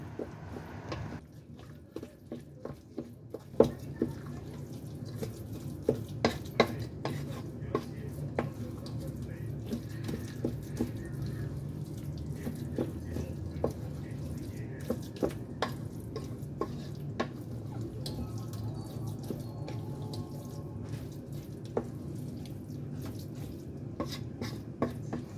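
An egg mixture is stirred in a bowl until evenly combined. There is a low steady scraping and many small clicks and taps of the utensil against the container, with a sharper knock early on.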